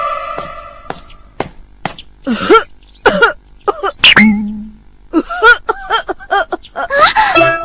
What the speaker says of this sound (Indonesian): Kenapa batuk-batuk?